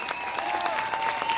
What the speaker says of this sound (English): on peut lui faire un tonnerre d'applaudissements